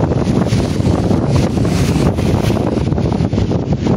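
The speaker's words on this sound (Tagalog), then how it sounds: "sobrang lakas na talaga ng hangin" Strong wind during a rainstorm roars and buffets the microphone steadily throughout, a dense rushing noise with no pauses.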